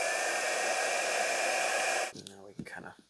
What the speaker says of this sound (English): then we can dry it really quick with the blow dryer